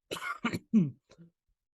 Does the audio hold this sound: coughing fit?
yes